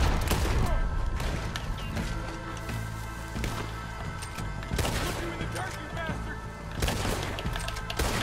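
Gunshots in a shootout in Red Dead Redemption 2, a string of sharp cracks and thumps with a few louder hits, heard under talk and game ambience.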